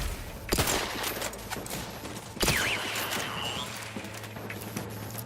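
Gunfire in the game The Outer Worlds: two sharp, loud gunshots about two seconds apart, each followed by lighter mechanical clatter and faint background tones.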